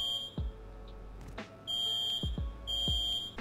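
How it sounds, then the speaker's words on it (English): An electronic alarm in the video game Rust beeps in steady high-pitched pulses, loud and close, with thudding impacts and mechanical clunks around it. "you can see that the system works as the light and audio alarm go off."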